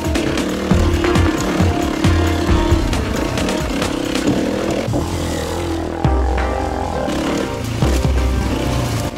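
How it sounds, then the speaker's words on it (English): Big Yamaha enduro motorcycle ridden along dirt tracks on Cambodia's south coast, the engine droning loudly and continuously, revving up and down with gear changes and no talk. "After my super light two-stroke back home, I'm finally coming to grips with the big Yamaha"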